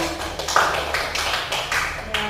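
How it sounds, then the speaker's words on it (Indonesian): Short burst of scattered clapping from a small classroom group after a student presentation, several uneven claps close by, with faint voices underneath. "beri tepuk tangan"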